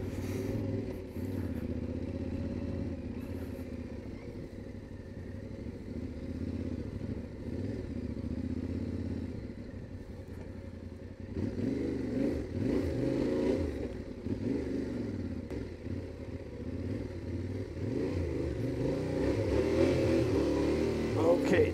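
A heavy motorcycle labours along a rough trail, its engine droning steadily throughout and swelling louder in the second half with rattling and clatter from the bike.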